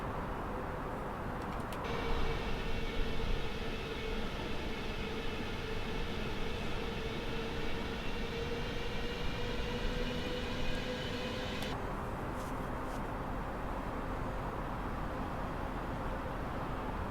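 Inside an Airbus A320 cabin on final approach to Edinburgh, a steady engine and airflow roar carries a sustained whine for several seconds as landing gear and flaps are lowered, then the tone drops back to the constant cabin drone.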